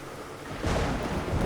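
Heavy rain hisses steadily in the Indian Bikes Driving 3D video game, swelling into a louder, denser roar of downpour and rumbling thunder about halfway through.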